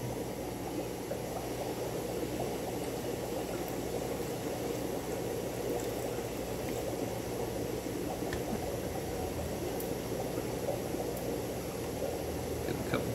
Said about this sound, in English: he's due for a water change, so we're gonna pour out